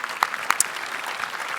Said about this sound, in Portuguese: Uma salva de palmas para o Rodrigo.